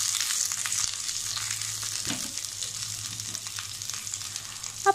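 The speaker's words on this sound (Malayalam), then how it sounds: "ഇനി നമ്മൾ ഇതിലേക്ക് വെളിച്ചെണ്ണയിൽ കടുകും അതുപോലെ ചെറിയ ഉള്ളിയും വറ്റൽമുളകും കറിവേപ്പിലയും കൂടെ മൂപ്പിച്ച് നമുക്ക് ആ കറിയിലേക്കിത് ഇട്ട് കൊടുക്കാം" Mustard seeds, shallots, dried chillies and curry leaves crackle in hot coconut oil, a continuous bright sizzle with a few faint pops and stirring clicks near the end.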